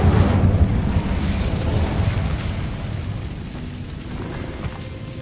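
An Incendio fire spell in the game Hogwarts Legacy lets out a loud rushing burst of flame that roars at first, then settles into a fading crackling hiss.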